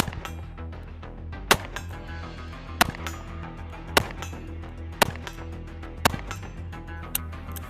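.38 Special rounds fired from a .357 gun, six sharp single shots spaced about a second apart, fairly loud against a low rumbling background with no talking.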